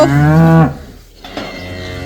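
A cow in a barn lets out one loud, close, drawn-out moo that drops off after under a second, followed by quieter barn background noise.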